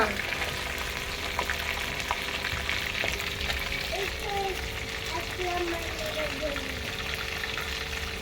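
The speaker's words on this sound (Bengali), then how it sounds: "বাকি মাছগুলো সব ভেজে নিচ্ছি" Fish frying in a pan over a wood fire, a dense continuous sizzle with faint crackles and clinks throughout, near and steady, with no talk over it.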